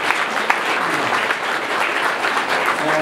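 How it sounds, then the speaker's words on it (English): Loud, sustained applause from a business forum audience for a speaker, a thick wash of clapping that stays even from start to finish and fills the room. "He deserves a wonderful head of applause"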